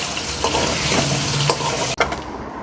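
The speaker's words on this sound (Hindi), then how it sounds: "अब उसी तेल में हमने आलू शामिल कर देना है।" Potatoes frying in hot oil in a pressure cooker, a loud, dense, continuous sizzle with faint stirring scrapes, up close, broken by an abrupt dip near the end before settling again.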